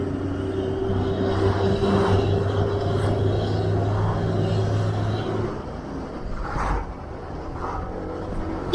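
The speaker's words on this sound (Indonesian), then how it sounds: "Kayaknya kita harus motong mobil truk ini guys" Car on a road in North Sumatra pulling out to overtake a truck, a steady engine drone and road rumble close by that swells and then eases as the vehicle passes.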